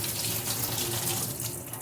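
Tap water runs steadily over grated yam being washed in a sink, a dense, continuous splashing rush at close range with no voices.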